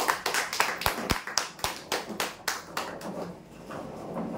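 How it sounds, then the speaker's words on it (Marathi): A small group claps for prize winners at a weekly lucky-draw event, with sharp, uneven claps close by that thin out and fade toward the end. "जोरदार टाळ्या होऊ द्यासाठी"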